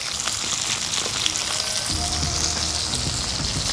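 Garlic, onion and green chillies fry in hot oil in a pan for egg thokku, producing a dense, close, crackling sizzle with fine spitting pops that deepens partway through as more goes in, with no talking.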